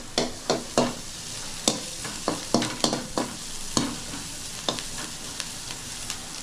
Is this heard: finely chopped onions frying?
yes